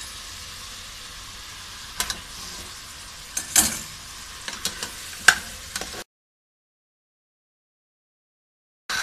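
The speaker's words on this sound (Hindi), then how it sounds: "इसको हल्का सा थोड़ा सा मसालों के साथ, खड़े मसाले के साथ हम भूनेंगे, और अब हम इसमें गोश्त शामिल करेंगे" Mutton frying with whole spices for a white korma, a soft continuous sizzle with occasional sharp crackles and stirring clicks, then cutting out to silence before a brief return.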